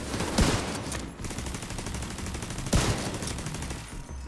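Gunfire in the shooter game The Division 2, two sharp loud shots a couple of seconds apart over a dense, noisy combat background.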